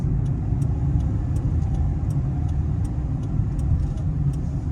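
A car driving in second gear through an intersection in Qatar, a steady close engine and road rumble with faint light ticking over it, no talking.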